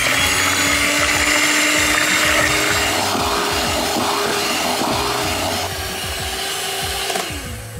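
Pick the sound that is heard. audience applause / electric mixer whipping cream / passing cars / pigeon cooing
electric mixer whipping cream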